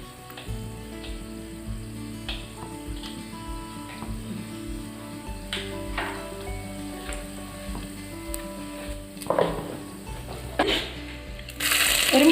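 Mustard seeds dropped into hot coconut oil in a pan for bitter gourd theeyal, a soft steady sizzle dotted with small pops and clicks, swelling into a louder crackling burst at the end.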